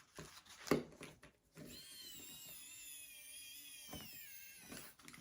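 A screwdriver at work during an assembly job, a steady motor whine running for about two seconds between scattered handling knocks and clatter, close by and moderately quiet, with no talking.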